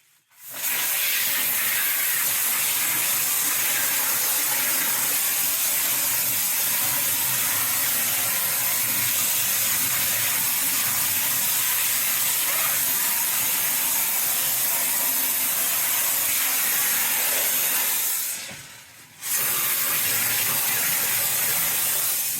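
Expanding foam sprays from a can nozzle during derelict farmhouse renovation, a loud continuous close hiss lasting about eighteen seconds, a brief break, then resuming.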